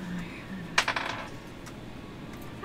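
Dice clatter on a table during a Pathfinder 2 tabletop game, a brief burst of hard rattling clicks that settles within half a second, set against quiet room tone.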